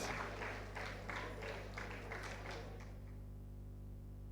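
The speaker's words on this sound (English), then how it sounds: "Can we clap for the panel, please?" An audience at a migrant dialogue plenary session applauds the panel, giving steady but faint rhythmic clapping that fades out after about three seconds over a low hum.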